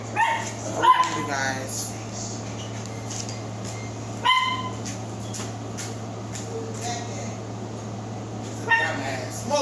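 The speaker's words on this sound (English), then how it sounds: "That's my aggravating ass dog just barking." A pet dog barks indoors in short bursts, three separate yapping outbursts spread across the stretch, with a person talking between them over a constant low electrical hum.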